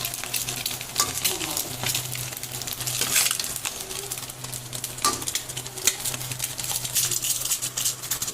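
Duck eggs fry and sizzle in hot oil in a pan, a steady crackling hiss with occasional clinks and scrapes as they are turned over, close and continuous without speech.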